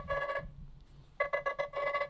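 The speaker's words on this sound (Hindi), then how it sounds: "जिसमें आप अगर रिंगटोन्स में जाओगे तो आप अलग अलग रिंगटोन्स इसमें सेट कर सकते।" A Nothing Phone 2a ringtone plays from the handset, a short bright melodic chime phrase, a pause, then a quick run of repeated electronic tones, fairly close and alone.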